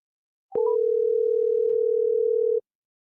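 A phone dial tone sounds as a call is placed, with a short chirp first and then one loud, steady, unbroken tone for about two seconds that stops abruptly.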